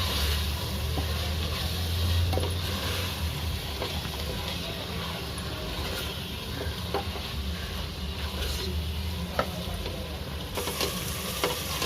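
Biryani masala and chili powder sizzling and frying in a pan for prawn biryani, a steady crackling hiss with occasional scrapes of stirring, close and continuous.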